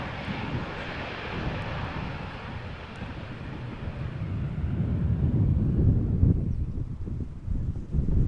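Narrow-body airliner on approach to Amsterdam Schiphol Airport, a broad engine roar that swells steadily from moderate to louder and rumbling as it nears, with wind buffeting the microphone; no talking.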